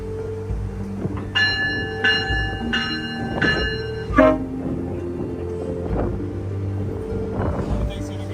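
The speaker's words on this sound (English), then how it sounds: "you can get a lot of GO trains, see a lot of F59PHs and old cab cars" A GO Transit train with an F59PH locomotive and older cab cars passes on an autumn day, its horn sounding in several sharp blasts and a bell ringing over rumbling rail noise, with people talking nearby.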